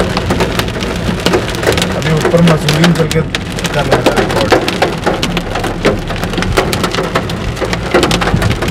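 Hail drums densely and loudly on the roof of a Hyundai i10 Grand, a continuous rattling patter. Someone talks over it.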